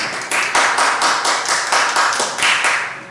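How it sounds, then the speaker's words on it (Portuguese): A church congregation claps loudly in unison during a worship service, a steady rhythmic beat of close, sharp claps repeating about twice a second. "Vamos aplaudir o Senhor, que merece toda a honra e toda a glória."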